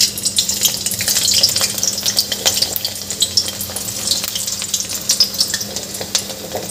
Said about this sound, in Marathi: असे 2-3 तुकडे टाकून आपल्याला सुरण छान मस्त असे तळून घ्यायचे आहे।